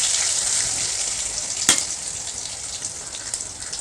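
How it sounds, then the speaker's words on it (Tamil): Ginger fries in hot oil with curry leaves and fennel seeds until golden, a dense steady sizzle close up, broken by one sharp utensil click. "நல்லா பொன்னிறமாக வதங்குற வரைக்கும் கொஞ்சம் ஃப்ரை பண்ணணும்."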